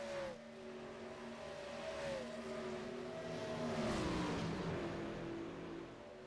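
NASCAR Gen 4 2003-era stock cars in an iRacing game at Talladega pulling off pit road, engines revving and rising in pitch as they accelerate, moderately loud and continuous with overlapping motors.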